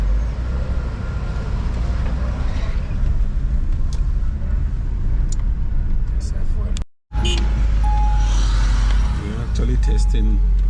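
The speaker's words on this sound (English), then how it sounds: "The guy that is supposed to fix it is testing the car." A car being test driven by a mechanic, with constant loud engine and road rumble throughout and a brief dropout midway; people talk over the noise.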